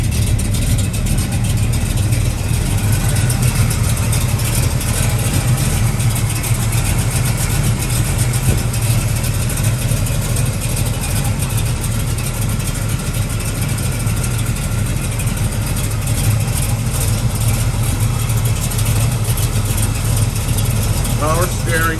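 A 1968 Chevrolet Chevelle idles while warming up, a loud, steady low rumble heard close by with a person talking over it.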